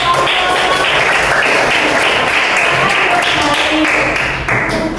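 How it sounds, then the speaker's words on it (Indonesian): Students in a classroom clap for a group during a lesson, brisk, close, fairly loud clapping that runs steadily for about five seconds with some scattered taps. "Oke, tepuk tangan untuk"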